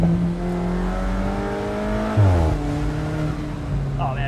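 Close, loud engine of a 2017 Alfa Romeo 4C Spider sports car revving and accelerating, pitch climbing then dropping sharply at a gear change before rising again.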